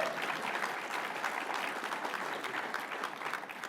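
A brief burst of steady applause from a conference audience during a keynote address, moderately loud clapping that carries on evenly for a few seconds and slightly tapers at the end.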